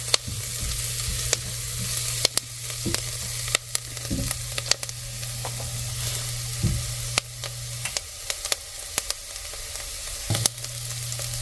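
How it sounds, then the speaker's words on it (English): Spices and salt sautéing in a pot as the base for curry pumpkin soup, a steady close sizzle broken by frequent sharp scrapes and knocks of a spoon stirring against the pot, with no talking. "let's saute this for 1 more minute. Really releasing those flavors."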